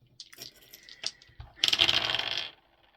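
Dice rattled in the hand and then tumbling and clattering across a hard surface for about a second, close and fairly loud, with no talking.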